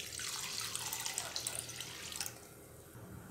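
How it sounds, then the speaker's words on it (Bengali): Water poured into a pot of washed lentils for Bengali dal, a steady close splashing pour that runs for about two seconds and then drops to a softer trickle. "এবার আমি পরিমাণ মতো জল দিয়ে দেব ডালের মধ্যে"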